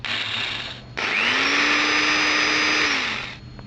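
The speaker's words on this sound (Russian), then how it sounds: "просверлив вначале тонким, а потом более толстым сверлом" A power drill bores a hole through the boot of a Fila NRK inline skate, with a steady high whine that rises as it spins up, a brief pause, then a longer continuous run fading out near the end.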